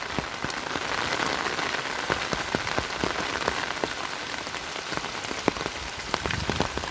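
Steady rain falling on trees and ground in a rural tree grove, a dense continuous hiss dotted with sharp individual drips and splats, close and moderately loud, with no talking.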